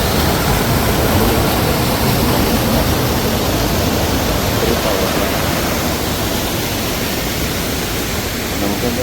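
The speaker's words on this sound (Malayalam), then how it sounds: "നല്ല ഭംഗിയുള്ള പുഴ, നല്ല ഒഴുക്കുണ്ട് കേട്ടോ." A strongly flowing river in front of a house gives a dense, constant rushing roar of water, loud and unbroken from start to finish with no voices.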